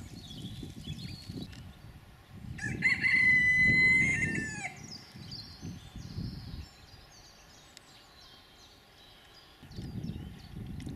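A rooster crows loudly once behind a wire fence while chickens cluck around it, with a low outdoor rumble and quieter clucking continuing afterward.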